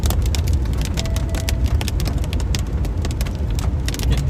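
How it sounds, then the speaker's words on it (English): Steady heavy rain pours down during a storm near a weak Arkansas tornado, a dense continuous hiss that stays loud throughout, with a faint vehicle rumble underneath. "Getting shrouded in rain."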